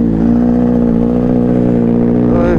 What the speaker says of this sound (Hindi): इस बाइक से ज़्यादा किसी बाइक की आवाज़ सूदिंग नहीं हो सकती